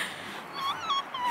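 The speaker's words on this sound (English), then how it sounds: "A doggy! A doggy! What do you think? It's a big dog." A big dog makes a faint, thin whimpering whine that rises and falls over a low background hiss in a store.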